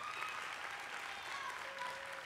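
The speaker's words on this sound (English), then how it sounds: "Oscar, you got your fans over there cheering for you" A small crowd of fans applauds and cheers at a stage magic show, with steady dense clapping and a few whistle-like cheers throughout, heard at moderate distance.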